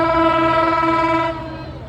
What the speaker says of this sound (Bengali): এখন ট্রেন আসতেছে